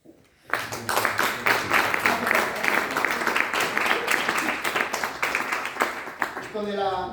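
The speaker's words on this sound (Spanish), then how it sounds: "Esto de los aplausos está muy bien para el ego." Audience applause at a school poetry recital in Burgos, a dense, steady wash of many hands clapping that starts abruptly and carries on for several seconds, tapering near the end.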